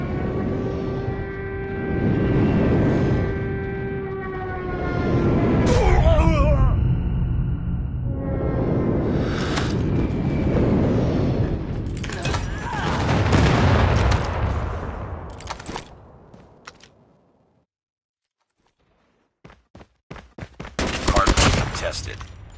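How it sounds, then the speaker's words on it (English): Call of Duty hardpoint match with a friendly airstrike: loud, dense bursts of gunfire and booming explosions fill most of the stretch, a game voice speaking over them, then a brief quiet before sharp renewed shots at the end. "Friendly airstrike incoming."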